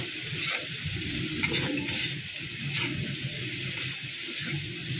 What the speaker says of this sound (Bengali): নারকেলটা দিয়ে ভাজা ভাজা করে নেব।